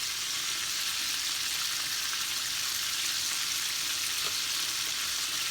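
Chicken pieces fry in oil with a steady, even sizzle that holds at a moderate level throughout, with no talking.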